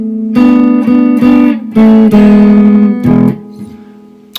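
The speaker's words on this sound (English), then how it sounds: "if we were playing that little lick down in E, it would sound something like this." Blues guitar filler lick played in E, a short phrase of sustained, bending notes with a few articulated attacks, close and clear, tapering into quiet at the end with no voice.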